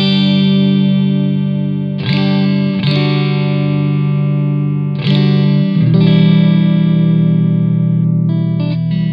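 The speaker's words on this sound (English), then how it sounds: "this is the sound that I got straight away. Clean, warm, EL34, and everything at 12 o'clock." An electric guitar plays through a Blackstar Silverline amp with a clean, warm EL34 tone, all controls at noon; several sustained chords ring out loudly and evenly, with new strums at intervals and a slight chorus-like shimmer.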